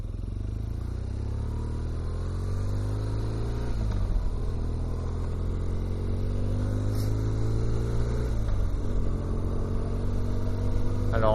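Motorcycle climbing a rocky, muddy uphill path, a loud close engine drone with rising pitch sweeps as it accelerates, dipping around two gear changes before climbing again.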